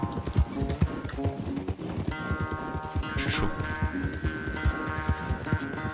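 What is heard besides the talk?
horse galloping hooves in video game Red Dead Redemption II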